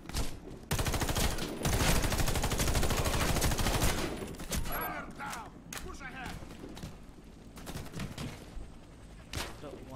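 Gunfire in the shooter game Warface: a dense, loud burst of rapid automatic shots for a few seconds, then scattered single cracks and ricochet-like whines further off, with a voice talking over it.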